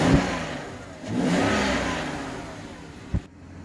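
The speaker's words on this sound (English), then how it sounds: "You can hear the suction really well." A car engine with a short ram intake revs up, loud and near, with a rising surge that holds and then drops away, ending in a sharp click and quiet. Intake suction whooshes through the rev.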